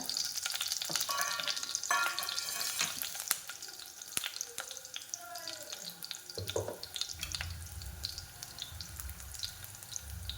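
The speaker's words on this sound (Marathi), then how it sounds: "हा चांगला फ्राय होऊ द्यायचा" Food sizzling and frying in a pan while lasuni methi is cooked restaurant style, a steady close crackle with stirring clatter and some running water from a tap or sink alongside.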